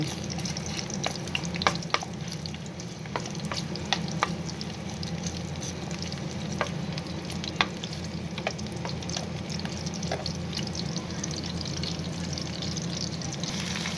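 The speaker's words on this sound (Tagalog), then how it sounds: "Atin ang imikos-mikos ang mga sangkap niya." Ginisang mongo ingredients sautéing in a pan, an even sizzle under repeated light scrapes and clinks of a utensil stirring throughout, with no voice.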